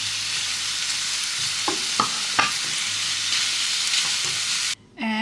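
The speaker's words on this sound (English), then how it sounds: "I'm going to saute some onions. With chunks of beef heart." Onions and chunks of beef heart sautéing in a pan, with a steady close sizzle broken by a few scrapes and stirs, ending in a brief clatter.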